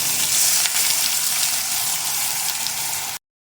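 Ground onion goes into hot oil already popping with mustard seeds and split urad dal, giving a loud, steady, dense sizzle of frying that runs unbroken for about three seconds and then stops abruptly.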